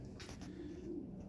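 Racing pigeons bred for 1,000 to 1,200 km races give a soft, low cooing, close and steady through a brief stretch with faint background noise.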